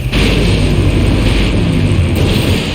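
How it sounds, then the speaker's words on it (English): Loud, sustained explosion in the video game Full Throttle Remastered, a continuous roaring rumble with heavy low end that holds steady throughout. "Now that's an explosion, ladies and gentlemen."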